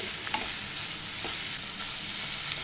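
Ridge gourd vegetable stirred in a frying pan, a soft steady sizzle with faint scraping stir strokes, close and alone with no talk.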